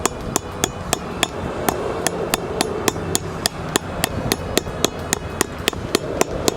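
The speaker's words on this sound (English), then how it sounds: "Hammer's a little overkill, but I'll just be careful with it. We'll knock it down until it's flush." Sharp, steady hammer blows ring out close by in a fast, even rhythm, roughly three strikes a second, continuing throughout, as a seal is knocked in flush.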